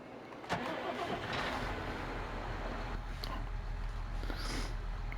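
A John Deere tractor engine in Farming Simulator 22 cranks and catches early on, then settles into a steady, fairly quiet idle that runs to the end, with no one speaking.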